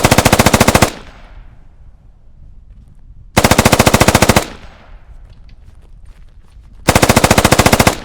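Three sustained bursts of machine-gun fire, each a rapid string of loud, close rounds lasting under a second, separated by pauses of roughly three seconds with echo tailing off between them.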